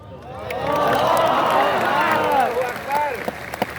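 A mosque crowd applauds and cheers during a sermon, a swelling wash of clapping with many overlapping voices that fades out toward the end.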